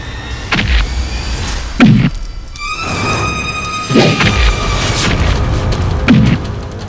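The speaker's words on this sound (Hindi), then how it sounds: "ये आखिरी 2 मटकियां फोड़ने के बाद" Clay pots smashed one after another, three heavy, close thuds, each with a short crash, set in a loud dramatic scene with a sustained musical drone and little talk.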